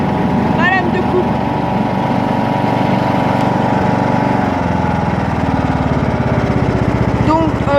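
John Deere X125 lawn tractor running steadily with its cutting blade being lowered, a loud continuous engine drone heard up close with a slight shift in tone midway.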